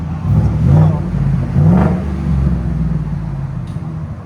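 Ford F-150 with a 5.0L V8 and Dynomax Race Bullet exhaust revving to around 3,000 RPM, a loud, close, deep rumbling exhaust with two swells of throttle, then a steady idle-level drone.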